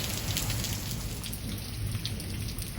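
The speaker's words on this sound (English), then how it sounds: "Rains are coming down in buckets" Heavy rain pouring down beside a brick wall, a dense, steady hiss of drops drumming on surfaces, with a low rumble beneath, continuous and fairly close.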